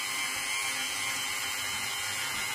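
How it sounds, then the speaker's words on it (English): A Dremel rotary tool fitted with a polishing head runs at its lowest speed, a steady high-pitched whine holding level and close throughout, with no talking. "Dremel, polishing head on, lowest speed"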